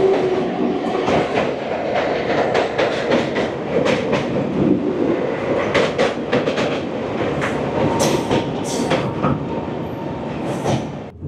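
Sealdah–Bikaner Duronto Express train in motion, a steady loud rumble with repeated clickety-clack of wheels on rail joints throughout, heard from inside the coach.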